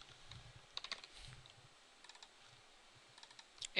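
Keys tapped on a computer keyboard while entering roller derby scoreboard data, a few short clusters of light clicks and presses with pauses between, close and quiet, no talking.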